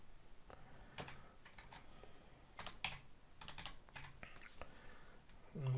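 Keys clatter on a computer keyboard as entries are typed into a no-code invoicing app: faint, irregular bursts of clicks close to the microphone in a quiet room, with short gaps between them.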